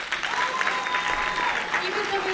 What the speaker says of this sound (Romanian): Vă rugăm aplauze pentru bobocii noștri.